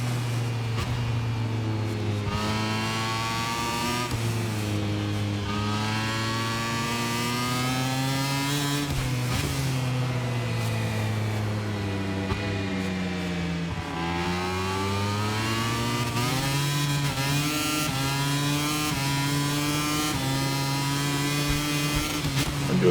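A motorcycle lapping a track in the MotoGP 25 video game sends out a loud, continuous engine whine that climbs and drops repeatedly as it shifts through the gears, with no talking.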